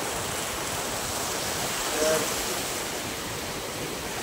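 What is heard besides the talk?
waterfall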